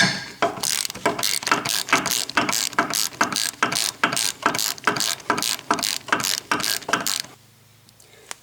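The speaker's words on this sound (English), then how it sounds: "I'm going to use a ratchet." A ratchet on a 3-inch extension and 15 mm socket clicks steadily, turning a wheel stud bolt on an S550 Mustang; about fifteen close, loud ratcheting strokes in a regular rhythm, then it stops into quiet.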